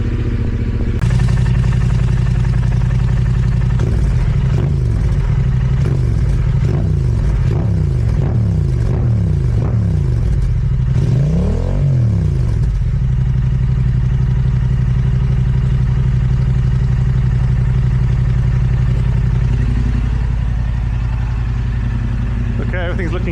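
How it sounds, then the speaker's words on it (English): Yamaha R7 motorcycle engine idling close by with a steady low rumble, a few blips of the throttle early on causing rising and falling revs, then settling into an even idle. "We're getting up to temperature. The idle seems good."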